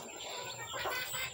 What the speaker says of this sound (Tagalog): So there's our chicken guys, so they're eating their food. They are native chicken.